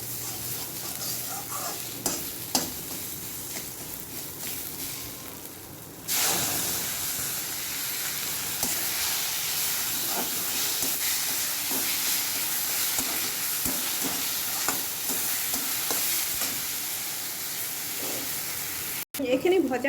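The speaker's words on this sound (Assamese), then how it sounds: "চাউলখিনি আৰু অকণমান সময় ভাজাৰ পিছতে মই বিলাহীৰ পেষ্টখিনি দি দিম।" Rice fries in a pan with a steady, close sizzling hiss, broken by occasional scraping stirs, continuous throughout with a louder burst partway in.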